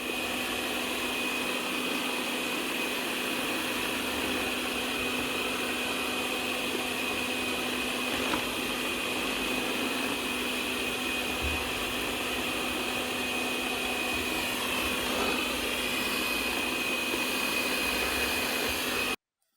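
A LuBlueLu LiDAR robot vacuum with mop attachment runs steadily and alone, a constant whirring motor hum with a fixed high whine, close by and unchanging in loudness throughout.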